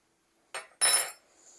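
A bowl and spoon picked up in a kitchen: a short clatter followed by a louder ceramic and metal clink, close and brief, then quiet.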